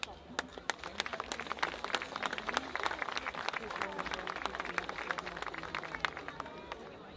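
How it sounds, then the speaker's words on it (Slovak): Sustained audience applause at a village community gathering in Vernár, Slovakia: dense, steady clapping from a crowd, with sharp individual claps standing out across the whole stretch at a fairly even level. "Ďakujeme krásne a ešte raz veľký potlesk."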